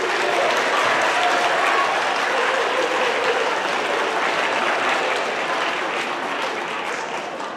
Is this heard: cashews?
no